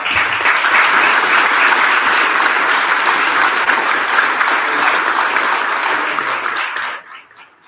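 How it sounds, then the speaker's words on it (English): A large crowd applauds loudly and steadily for several seconds, then the clapping quickly dies away at the end. "how about a round of applause for the"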